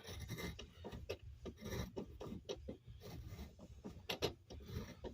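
A tap chasing old threads in a bolt hole on a 1981 Datsun 720, oiled with 3-in-1 oil, gives a steady gritty rasping and ratcheting scrape, close and moderately loud, in repeated short turns with no talk.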